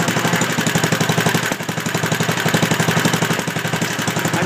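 A Wheel Horse C-160 garden tractor engine idles with a carburetor sucking air around the throttle shaft, giving a rhythmic, slightly surging chug that dips briefly midway, close and alone without talk.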